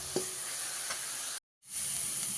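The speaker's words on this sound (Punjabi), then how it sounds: "ਪਿਆਜ਼ ਪਾਉਣ ਤੋਂ ਬਾਅਦ ਜਿਹੜੀਆਂ ਪੜਪੜ ਵਾਲੀਆਂ ਆਵਾਜ਼ਾਂ ਸੀ ਉਹ ਸ਼ਰਾਰਾਰਾ ਵਿੱਚ ਬਦਲ ਗਈਆਂ" Onions sizzling and frying in desi ghee, a steady close crackling hiss with a couple of soft stirring knocks, broken by a brief silent gap before the sizzle resumes.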